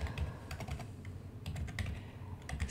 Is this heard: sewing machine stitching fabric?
no